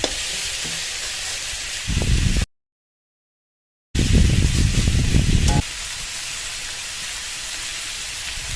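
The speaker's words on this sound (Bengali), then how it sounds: "ডাঁটাগুলো দিয়ে খানিকক্ষণ ভেজে নেবো।" Vegetable stems and fritters frying in mustard oil over a high gas flame, a loud steady sizzle and hiss close up with bursts of stirring and scraping, broken by a gap of silence.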